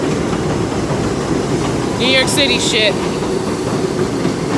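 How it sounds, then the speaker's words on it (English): A New York City train rolls past in a Harlem street scene, a steady rumble with a brief squealing screech of wheels over the middle, while someone talks over it. "Train!"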